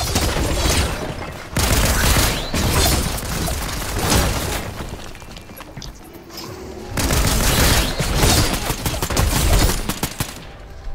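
Fortnite gunfire crackles in loud, dense bursts, with heavy volleys at the start and again near the end and a quieter gap between them.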